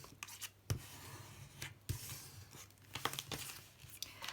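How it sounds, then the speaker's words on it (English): A sheet of paper or card, face down, is folded diagonally in half and burnished, giving quiet close-up rubbing, scraping and soft crinkling strokes in short bursts. "fold it in half diagonally and burnish it well"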